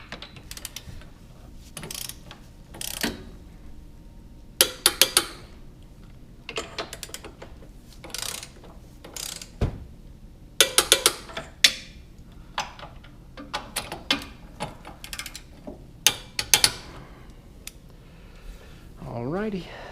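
A ratchet works on subframe bolts of a BMW E70 X5, giving bursts of rapid clicking pawl sounds separated by pauses, close and crisp over a quiet background.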